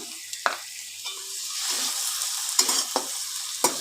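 Marinated chicken stirred and fried in a pan for an ol (elephant foot yam) chicken dish, a steady close sizzle with sharp scraping stirs at intervals and no talking.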